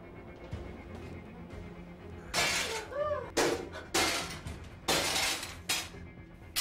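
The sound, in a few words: calligraphy being smashed to destroy it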